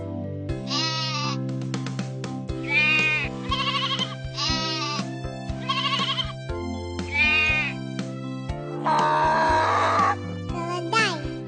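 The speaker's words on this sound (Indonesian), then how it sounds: "Domba." Sheep bleat in a series of wavering calls on a livestock farm, several loud close bleats repeating in steady bursts over a continuous background drone, with a voice also briefly present.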